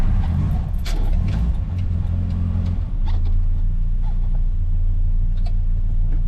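A Hillman Superminx car engine turns over and runs with a low, rumbling idle close by, with a few light metallic clicks and rattles on top and no talking.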